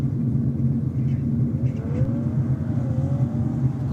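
Drag racing car engine at Sydney Dragway, a deep throaty rumble with rising and falling revs heard from a distance, steady and loud throughout.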